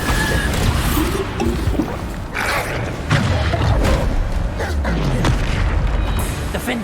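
Bombarda blasting-spell explosions in Hogwarts Legacy on PS5, a continuous loud barrage of booms, crashes and thuds in a chaotic spell-casting fight with hardly any pause.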